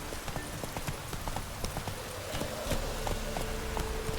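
Hooves of the horse Roach pound in a fast galloping rhythm in The Witcher 3, a steady close clip-clop over continuous background noise.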